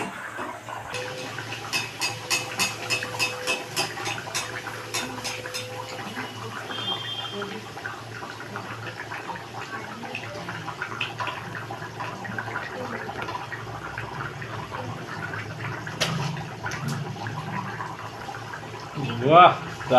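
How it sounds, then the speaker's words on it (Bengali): Luchi, puffed bread, deep-frying in hot oil gives a continuous bubbling sizzle, with occasional clatter as a voice talks intermittently over it. "আমাদের লুচি ভাজা শুরু হয়ে গেছে।"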